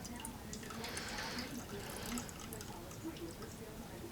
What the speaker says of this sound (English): you pour your water in and filter it through